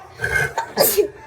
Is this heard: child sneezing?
yes